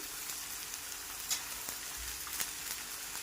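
Capsicum, green chili and ginger-garlic paste sauté in a hot pan, giving a steady close sizzle with a few faint stirring clicks and no talk.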